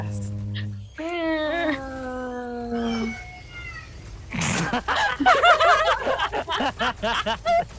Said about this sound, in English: Cat joined in.